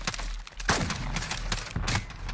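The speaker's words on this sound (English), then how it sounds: "Stop shooting at me." Gunfire in Call of Duty: Modern Warfare cracks out in several sharp, loud bursts spaced across a couple of seconds, close and punchy over a steady low game background.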